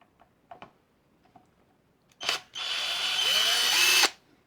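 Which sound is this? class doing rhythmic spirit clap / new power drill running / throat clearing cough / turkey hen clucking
new power drill running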